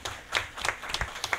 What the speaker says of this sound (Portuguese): Uma salva de palmas para o nosso empresário.